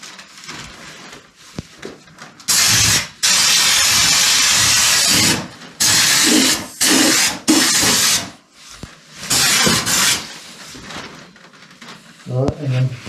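Stone chip coating sprayed onto the sills of a classic Mini in a workshop, a light first coat. Several loud, sustained hissing bursts of a few seconds each start and stop, with quieter workshop sounds between them.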